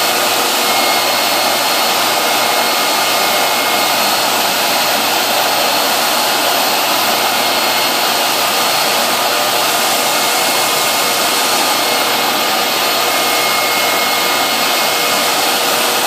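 Spray gun applying a tack coat of paint to a new car bumper skin, a steady loud hiss of atomized air that runs unbroken throughout, with no talking.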